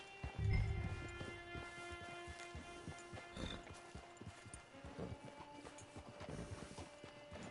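Horse hooves clip-clop in Red Dead Redemption 2, a steady faint rhythm of hoof falls mixed with game ambience and tones, no talking.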